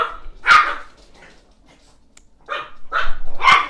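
Dogs bark excitedly at neighbors, a loud sharp bark followed by a pause, then a quick cluster of three barks close by in a quiet room.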